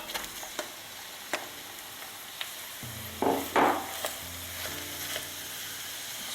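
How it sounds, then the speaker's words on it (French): Minced meat hits hot oil in a pan with softened aromatics, bursting into a loud hiss that then settles into a steady sizzle, preceded by a few sharp clicks and taps of utensils. "Allumez votre feu et faites bien revenir le tout. Ajoutez-y la viande hachée."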